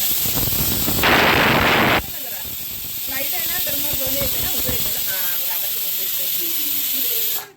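A sharp, loud burst of steam hissing from a pressure cooker lasts about a second, then a person talks over quieter background.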